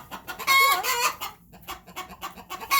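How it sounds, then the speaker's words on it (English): Two dark hens and a pair of chicks cluck in a pen alongside a duck, giving a burst of close, overlapping calls and chirps followed by softer scattered clucks. "And the duck and the two hens,"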